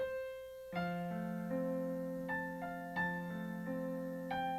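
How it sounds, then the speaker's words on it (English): Piano notes played one at a time in a low broken-chord pattern, each note ringing into the next, quiet and unaccompanied. "you can play an arpeggio"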